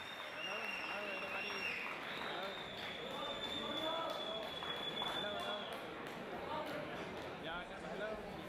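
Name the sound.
crowd applauding the fighters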